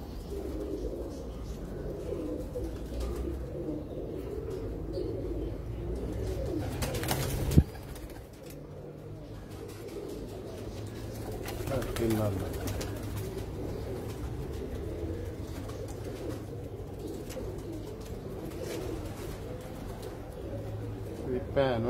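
Pet pigeons cooing in a loft or cage, a low rolling coo repeating under steady background noise, with one sharp knock partway through.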